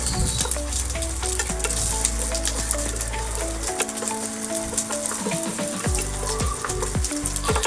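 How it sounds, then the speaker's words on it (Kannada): Paneer lightly frying in a pan on a low flame, a steady close sizzle with fine crackling and occasional clinks of stirring over a low background hum, even in level throughout. "ಲೈಟ್ ಆಗಿ ಫ್ರೈ ಮಾಡ್ಕೋಬೇಕ್ರಿ."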